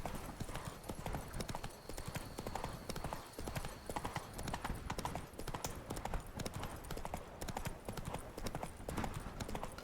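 Hooves of Roach, a horse in the video game The Witcher 3, pound in a quick, even galloping rhythm that stays close and runs throughout.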